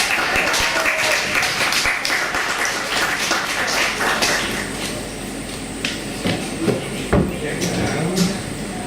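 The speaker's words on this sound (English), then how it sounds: "let's give Mr. Kok Wei Liang a big round of applause" Applause from an audience at a poetry and comedy stage night as a performer is welcomed on, scattered claps with a few louder sharp hits, fading into a quieter room with sporadic claps and knocks.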